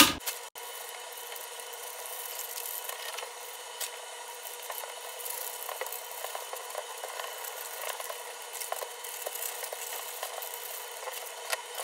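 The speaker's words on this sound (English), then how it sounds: "so I'm going to cut out this pattern" Scissors cut out a paper sewing pattern for a flared A-line gown, making a continuous run of crisp snips and rustling paper close by, with no talking.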